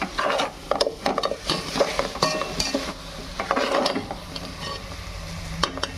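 A spoon stirs button mushrooms in a hot pot for mushroom biryani, giving repeated close scraping and clinking strokes of metal on metal over a soft, steady sizzle, with no talk.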